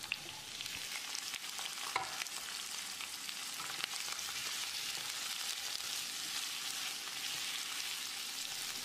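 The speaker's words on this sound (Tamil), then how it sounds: "ஒரு 2 நிமிஷம் இந்த காய்கறிகளை ஃப்ரை பண்ணிடலாம்" Steady, close sizzling of boiled vegetables frying in a kadai for vegetable gravy, a continuous crackle with occasional stirring clicks, no voices.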